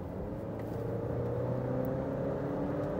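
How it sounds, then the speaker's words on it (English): A 2018 Alfa Romeo Stelvio with a four-cylinder engine pulls hard at full throttle. The engine drones steadily from inside the cabin, its pitch climbing slowly as the revs rise, with no voices. "Then you floor it,"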